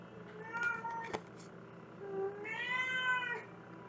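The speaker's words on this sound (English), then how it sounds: "What are you doing, kitty?" A house cat meows twice in close succession, a short call followed by a longer drawn-out one, near and clear against a quiet indoor background.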